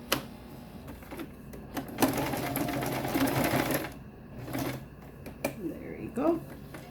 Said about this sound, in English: I'm just gonna double sew it here.